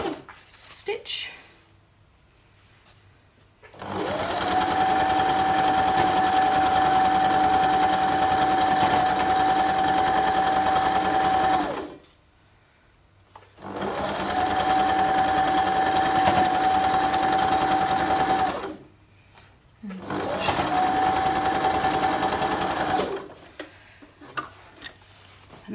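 A sewing machine stitches a nine-patch quilt block in three long runs of steady, fast, even mechanical chatter, close and loud, with short quiet pauses between runs.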